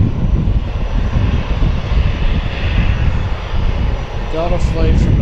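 Engine of a cargo airplane at Harrisburg airport on a night of UPS and FedEx traffic, a steady loud broadband roar filling the whole stretch, with brief voices near the end.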